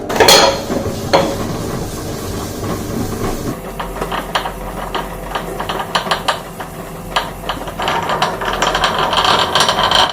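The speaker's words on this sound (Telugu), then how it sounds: "ఇప్పుడు గ్రైండర్ ఆన్ చేస్తున్నాను" A mixer grinder runs in a home kitchen, grinding corn with jaggery, giving a loud mechanical whir and dense rattling clatter as kernels churn in the jar.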